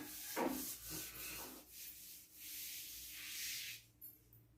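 A duster or hand rubbing out writing on a classroom board, several soft scrubbing strokes in quick bursts, close and quiet, with no talk.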